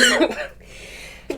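A sharp, explosive sneeze bursts out at the start, followed by a quieter breathy tail and a short sharp sound at the end.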